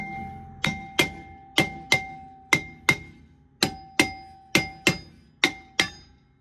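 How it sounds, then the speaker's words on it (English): A hammer taps the brake drum of a 2019 Toyota Corolla about a dozen times in an uneven rhythm, each strike ringing briefly with a bright metallic tone. "I'll just tap around with the hammer"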